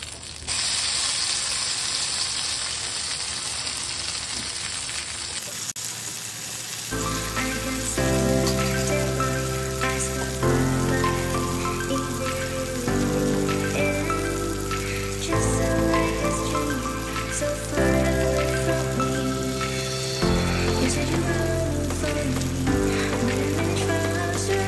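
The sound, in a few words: Bombay duck fish frying on the other side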